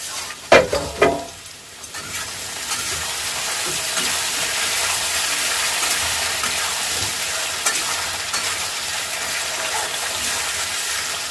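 Something frying in a pan while cooking a pomfret broth with potato and radish, a few loud clattering knocks at the start and then a long, steady, hissing sizzle close by, no talk.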